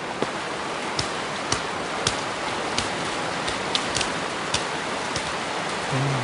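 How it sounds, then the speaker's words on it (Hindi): Heavy rain in a storm outside, a steady dense hiss throughout with scattered sharper drops and taps, loud and continuous with no speech. "बाहर तो बहुत तेज बारिश है, तूफान है।"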